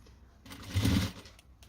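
A sewing machine stitches a fabric pencil case in a short quiet whirring run that swells briefly mid-burst, then stops, leaving faint clicks.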